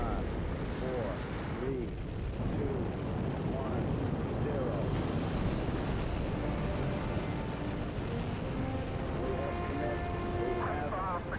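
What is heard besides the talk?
Saturn V rocket engines igniting at Apollo 8 launch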